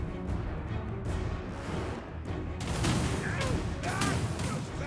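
Skaven ranged units firing in Total War: Warhammer 2, a dense distant volley of crackling shots and booms layered over continuous battle noise, moderately loud throughout.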